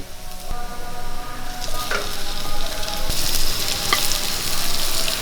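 Cooked green plantain drops into a hot frying pan with crushed chilli, setting off a steady, loud sizzle of oil with a few sharper clinks and stirring scrapes as the pieces settle in.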